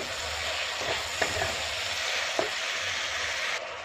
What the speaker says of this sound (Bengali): বন্ধুরা এটা ভালো করে কষে নেব, এই আলুর সাথেই কষে নেব।